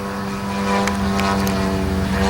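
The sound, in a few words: 50cc Revolver radio-controlled plane flying a knife edge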